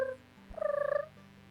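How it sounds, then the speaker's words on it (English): A bird call plays as an ambient effect in a Pokemon tabletop game: one short, warbling, gobble-like trill, fairly faint and set against a quiet background. "You hear the sound of bird Pokemon somewhere in the distance."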